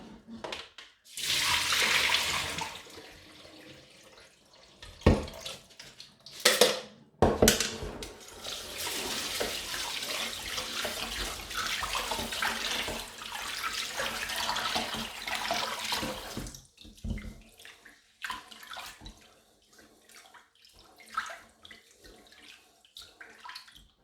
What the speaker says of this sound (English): The water is still very milky, so it's still not clear yet, so we've got to rinse another time